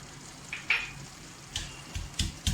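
Whole garam masala, a black cardamom, two cloves and a few peppercorns, pounded in a mortar with a pestle: a handful of soft, dull thuds and light grinding knocks, close and quiet over kitchen sizzle.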